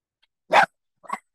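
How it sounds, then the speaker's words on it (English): A dog barks twice close by in a quiet room, one loud bark followed by a softer, shorter one. "Apparently my flatmate's dog has questions."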